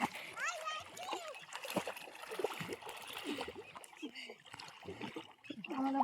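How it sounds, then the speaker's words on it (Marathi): Children splashing water at a swimming spot, with irregular close splashes mixed with lively kids' voices and adult talk throughout. "मार दीदीला पाणी मार."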